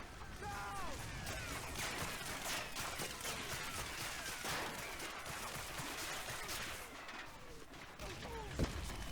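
Machine-gun fire rakes Omaha Beach in Medal of Honor: Allied Assault, a dense, continuous chatter of rapid shots with scattered louder cracks and ricochet whines throughout.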